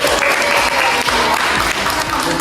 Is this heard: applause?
yes